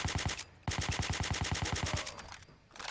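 Suppressed automatic SCAR rifle from a Fallout 4 mod firing in long rapid bursts, rounds evenly spaced like a fast machine-gun rattle, loud and close, with a brief pause between two strings of fire.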